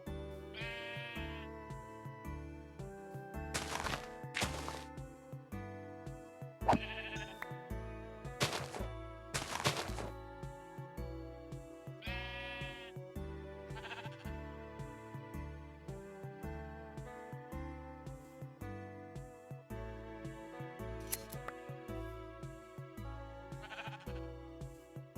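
Sheep in the Minecraft video game bleat several times in separate bursts while music plays continuously underneath at a moderate level.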